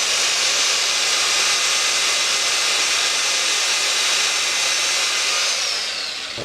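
A car polishing machine spins steadily as a screwdriver is held against its buffer pad to loosen old compound, giving a loud, continuous whirring hiss that holds throughout and begins to wind down at the very end.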